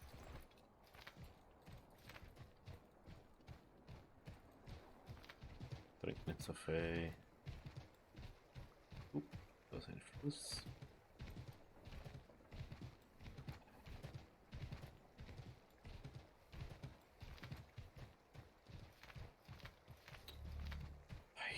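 Horse hooves clip-clopping steadily in the Assassin's Creed 3 video game, a rhythmic run of close, evenly spaced hoof hits with a brief whinny partway through, under someone talking in German.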